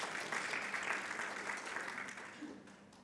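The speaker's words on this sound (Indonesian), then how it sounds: "Tepuk tangan bagi Tuhan Yesus." Church congregation clapping during a Sunday service, a moderate burst of applause that gradually fades over a few seconds, heard at some distance.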